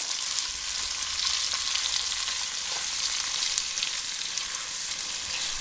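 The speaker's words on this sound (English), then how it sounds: "So stir frying for 4 to 5 minutes till it gets that golden brown color." Onions sizzle and crackle steadily as they stir-fry in a hot pan, with no talking over the frying.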